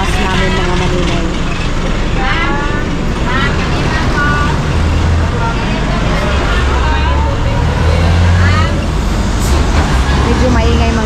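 A bus rumbles loud and close with a steady low engine drone, traffic noise and chattering voices around it on a street in Davao.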